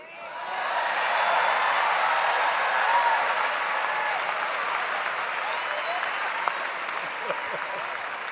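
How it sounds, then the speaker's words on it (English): Steady crowd applause at a mayoral inauguration in Chicago, building quickly and holding at an even roar of many hands clapping through the whole stretch, with no break. "I'm going to turn around and clap for them."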